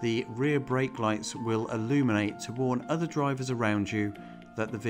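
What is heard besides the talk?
No distinct noise like a dog, phone or traffic.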